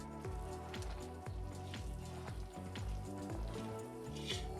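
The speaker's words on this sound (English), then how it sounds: "Yep, it's boiling." Sugar syrup boiling in a pot for sponge candy makes a faint, continuous bubbling crackle with soft, irregular low pops and no voices.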